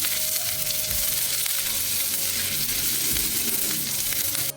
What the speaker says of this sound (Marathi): आता आपण मिरची घालूया। 1-2 मिनटं परतून घेऊ।